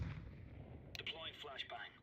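A grenade explosion in a video game booms low and heavy at the start, followed by clipped game effects and radio-style voice chatter.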